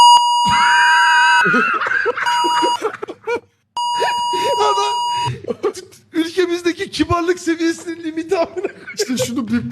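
Two long, steady electronic censor bleeps, loud and tonal, separated by a short gap, followed by people talking and laughing.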